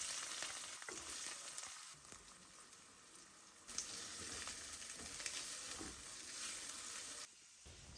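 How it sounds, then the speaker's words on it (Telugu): Okra frying in a pan with cumin, mustard seeds, green chillies and onion makes a close, steady sizzling hiss with small crackles and occasional stirring scrapes, broken by a few short quieter gaps. "అదే ప్యాన్లో కొంచెం జీలకర్ర, ఆవాలు, పచ్చిమిర్చి, ఆనియన్ వేసి అవి మగ్గిన తర్వాత బెండకాయ వేసి ఫ్రై చేస్తాను అనమాట"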